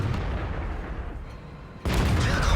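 Artillery fire in a video game: a dense, steady rumble of distant shelling that breaks into a sharp, louder blast near the end and carries on at that heavier level.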